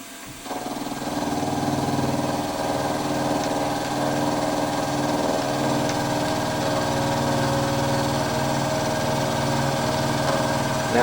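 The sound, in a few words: machine squaring up the ends of hinge parts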